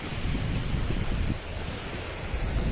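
Sea waves washing onto a beach in Spain near a port, a steady broadband surf roar with constant wind noise buffeting the microphone throughout, no voices.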